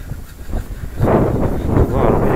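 Strong wind gusts outdoors in snowy mountain country batter the microphone with loud, rough roaring that rises and stays heavy through the second half.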